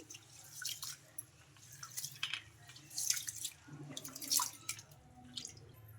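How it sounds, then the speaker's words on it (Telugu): Rice being rinsed by hand in a bowl of water, with soft sloshing, squishing swirls and drips in irregular bursts, close and fairly faint, with no speech. "ఇలా వాటర్ వేసేసుకొని ఇలా రెండు సార్లు శుభ్రంగా వాష్ చేసుకుందాం"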